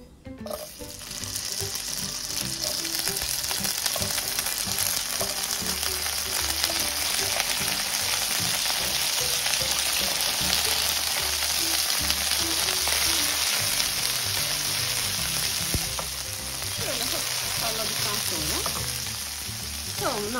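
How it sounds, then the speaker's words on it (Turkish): Okra frying in hot oil in a pan, a dense, continuous loud sizzle with crackling pops that holds steady for the whole stretch, close up, with no talking. "Yağım kızmaya başlayınca bamyaların sadece tavanın dibini kaplayacak kadarını tavaya aktarıyorum."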